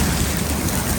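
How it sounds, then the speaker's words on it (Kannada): Heavy rain mixed with falling hailstones makes a dense, loud, steady hiss and patter with no break, close by. "ಇಲ್ಲಿ ನೋಡಿ ಎಲ್ಲಿ ಮಳೆ ಬರ್ತಿದೆ ಅಪ್ಪ"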